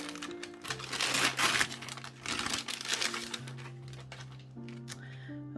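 Plastic wrapping crinkles and rustles close by as newly bought art supplies are unwrapped, with crackling bursts and a few sharp snaps over a faint background tone.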